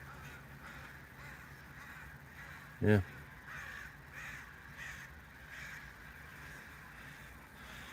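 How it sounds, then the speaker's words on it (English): A single crow caws once, sharp and fairly close, breaking through a low outdoor hum and background ambience; a brief spoken word occurs nearby. "those crows are having a heyday today"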